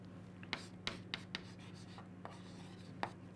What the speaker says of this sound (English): I'm writing net force.